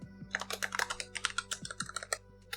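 Close computer keyboard typing Python code, quick irregular key clicks in a steady run over a faint background hum, with no talking.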